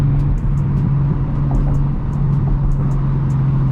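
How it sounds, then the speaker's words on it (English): Nissan 350Z with a single-exit exhaust drones steadily from inside the cabin during a drive, its low engine note holding fairly constant with slight shifts in pitch as it downshifts, loud and continuous with no talk. "The downshifts in this car, like, that just sounds so good."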